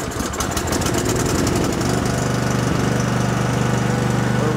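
A new Cub Cadet 2X 30-inch snow blower engine starts on the choke and runs at a loud, steady, chugging pace close by, with no talk over it.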